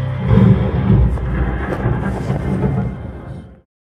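A thunderstorm presented in a Bible Museum exhibit rolls as a loud, deep, rumbling thunder with a dense wash of rain, lasting several seconds before ending abruptly in silence.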